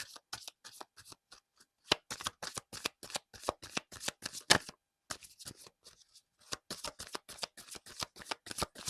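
Tarot cards are shuffled by hand in a quiet room, a close series of crisp riffling bursts in quick irregular rhythm, pausing briefly midway before resuming, with no voice.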